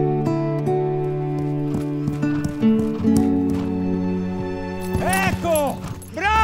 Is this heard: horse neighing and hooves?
yes